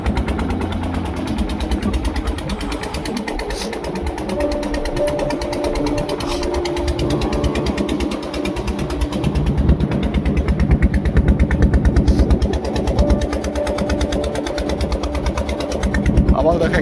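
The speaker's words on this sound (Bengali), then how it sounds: "ফাইনালি এখন নৌকাটা ছাড়া হলো, আর এই যে যাচ্ছে আমরা এখন নৌকাতে করে" A motorboat engine running on the Ganges on a foggy morning, a loud, steady, throbbing drone that continues throughout, with voices faintly audible beneath it.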